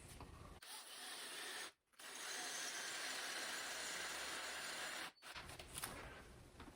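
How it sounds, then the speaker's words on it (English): A regular Craftsman drill with no hammer function grinds into a hard surface for anchor holes, a close, faint, raspy whir in two long bursts separated by brief pauses. "I've just got my regular Craftsman drill, not a hammer, no hammer function on this drill."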